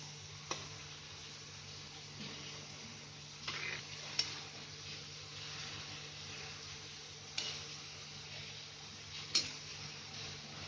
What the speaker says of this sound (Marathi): हे पण चांगले आहे ना गोल्डन ब्राऊन होईपर्यंत तळून काढायचे